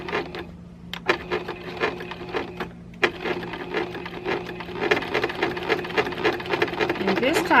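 A sewing machine stitching binding in the ditch of a scrappy-bound quilt, running in a steady close rhythmic chatter with brief pauses and restarts, the needle speeding up toward the end.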